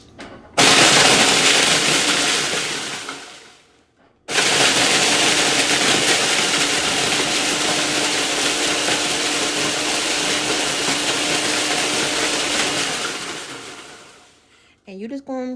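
A kitchen food processor runs on chop mode while ingredients for a taco pizza are processed, a loud, steady whirring drone that cuts out briefly, restarts and runs for several seconds before stopping, with a voice at the end.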